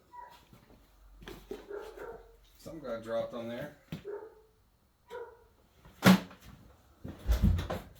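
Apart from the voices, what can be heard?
dog barking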